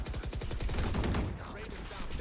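Rapid gunfire from a Valorant match fires off as a close, dense burst of repeated shots at the start, then fades into a softer rumble, with a voice faintly present.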